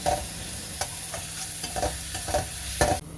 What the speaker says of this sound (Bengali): পেঁয়াজটাকে ততক্ষণ ভাজবো যতক্ষণ না পেঁয়াজের রং বদলে লাল হচ্ছে।